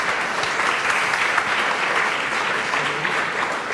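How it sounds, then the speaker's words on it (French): A conference audience at an EnergieSprong zero-energy renovation presentation gives two speakers sustained, loud, even applause that fills the room throughout. "Si vous voulez bien applaudir les 2 intervenants."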